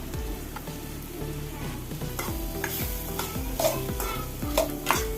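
Mango pickle is stirred in a pan over a low gas flame, a spoon scraping and clacking against the metal in a repeated rhythm over a soft continuous sizzle, close and fairly loud.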